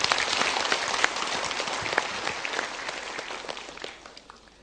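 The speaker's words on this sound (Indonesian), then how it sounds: "kita berikan tepuk tangan." An audience at a talk show breaks into applause, a thick wash of many hands clapping that starts strong and gradually fades away toward the end, with no voices on top.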